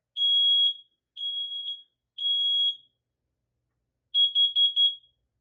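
A Kidde wireless smoke alarm under test gives three long, loud, piercing beeps, then after a pause a quick burst of four shorter beeps, sounding alone and close against silence.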